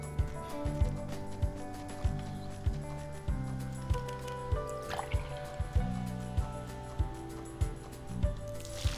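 Watering plants in Dave the Diver: a liquid pour and trickle sound over a looping game music track with regular low beats, a brief splashy burst partway through.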